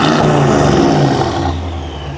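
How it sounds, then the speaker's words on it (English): Turbocharged Mercedes engine revving loudly up close, a deep throaty roar with rising and falling tones that eases off toward the end, with no voices. "You guys hear that turbo?"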